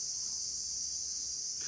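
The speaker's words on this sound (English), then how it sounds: "The crickets are mad loud." Crickets chirp outdoors as a loud, continuous high-pitched drone that holds steady throughout with no pauses.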